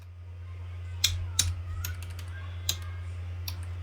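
Computer keyboard keys clicked in short irregular bursts, a handful of crisp taps close to the microphone over a steady low electrical hum, no speech.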